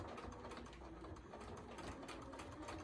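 A sewing machine runs a basting stitch on fabric for hanging kitchen hand towels, a continuous fast rhythmic whirring hum, fairly quiet and close, with no talking.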